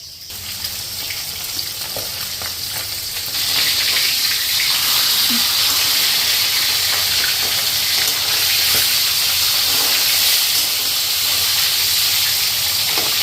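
A whole aar catfish fries in a pan of hot oil, giving a loud, steady, close sizzling hiss that swells slightly after a few seconds and continues unbroken throughout.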